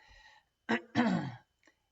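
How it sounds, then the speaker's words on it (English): Two short, rough coughs close by, the second longer and throatier, followed by near silence and a faint breath. "sorry you guys, I'm still coughing"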